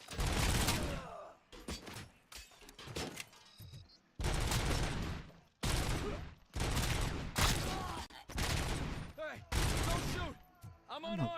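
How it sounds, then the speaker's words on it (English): Bursts of gunfire in the shooter game RoboCop: Rogue City, with loud, dense volleys repeating in rapid clusters and brief gaps between, some voice mixed in. "I'm going to shoot this dude here. Because he's shooting."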